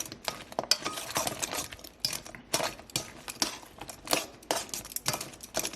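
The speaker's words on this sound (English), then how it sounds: "So I'm just gonna use my tongs and toss them real good." Metal tongs clink and scrape in a bowl while tossing lemon pepper buffalo wings in sauce, a busy run of quick, close clatters and wet stirring with no talking.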